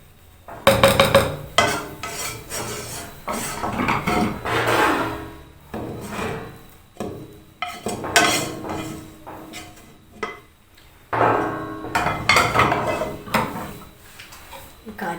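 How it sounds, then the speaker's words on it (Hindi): Grated carrots are stirred in a pot for carrot barfi, making repeated scraping and rubbing strokes in uneven bursts with short pauses between them, close and moderately loud. "गाजरें भी हम साथ ही इसमें ऐड कर देंगे और हम इसको अच्छा सा मिक्स करेंगे"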